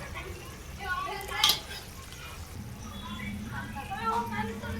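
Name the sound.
mutton frying and being stirred in a pan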